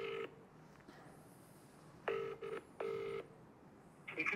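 A phone dials from a desktop app, giving a short electronic dialing tone followed by two ringback pulses with pauses between them, faint and clean with no talking.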